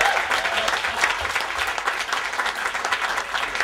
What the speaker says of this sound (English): Be equally loud for Pete.